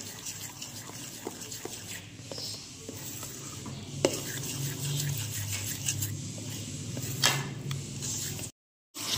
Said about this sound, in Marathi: चांगलं एकाच डायरेक्शन मध्ये चांगलं फेटून घ्यायचं